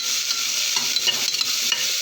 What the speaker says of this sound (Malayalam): നമുക്കിനി ഇത് നന്നായി മിക്സ് ചെയ്ത്